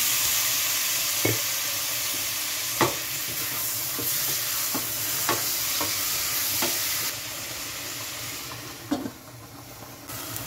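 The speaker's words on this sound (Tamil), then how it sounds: "வெங்காயம் நல்லா வதங்கிட்டுது அதால் நான் அதுக்கு இப்போ தக்காளி பழத்தை சேர்த்து கொள்கிறேன்" Onions and tomatoes fry with a steady, broad sizzle in a pan, broken by sharp scraping clicks of stirring at irregular intervals; the sizzle drops slightly partway through, and no one talks.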